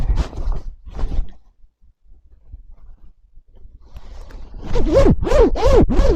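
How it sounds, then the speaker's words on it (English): Plastic zipper slider pulled up and down on a reversible two-sided overcoat, a few quick scratchy zips that get louder and rasp in rapid bursts near the end, with no talking. "See, it's very smooth. This is our zipper."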